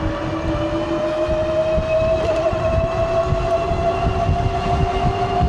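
A loud, steady 72-volt electric bike motor whine at around 30 mph, with sustained tonal hum and rumbling road noise, runs continuously without pause or voices.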